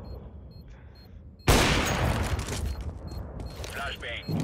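Counter-Strike: Global Offensive gunfire: a sudden loud burst of shots after a quiet stretch, then sustained rattling fire with a voice faintly underneath.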